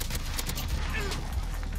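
Rapid M4A1 rifle fire in the video game Modern Warfare crackles in a dense burst of repeated shots lasting under two seconds, loud and close, with a voice present.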